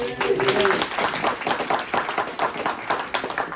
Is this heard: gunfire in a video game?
no